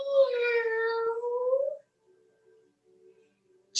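A single drawn-out voiced meow imitating a cat, sung by a person during a relaxing yoga class, fading after under two seconds into near silence with faint murmurs.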